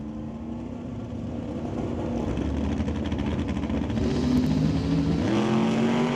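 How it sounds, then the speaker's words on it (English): Two 2000 Chevrolet S10 round-body trucks launching side by side in a drag race, engines roaring loud and steady, rising in pitch as they accelerate down the strip. "Oh, we got a drag race here."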